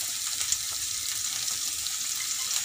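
Cabbage and beans sautéing in a pan, a soft, even hiss of frying with faint stirring clicks. Nobody talks.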